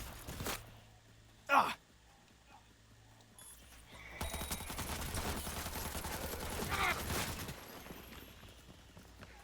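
Rapid bursts of gunfire in the video game Cyberpunk 2077: a couple of sharp shots early on, then a long, dense stretch of sustained automatic fire, fairly loud and close.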